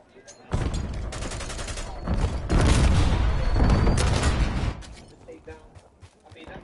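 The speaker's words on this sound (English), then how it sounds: "Semtex incoming." A Semtex grenade in Call of Duty multiplayer going off amid a hardpoint match: a loud, booming burst with sustained crackling gunfire for a few seconds, then fading into quieter game sounds.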